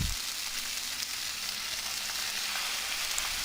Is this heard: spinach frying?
yes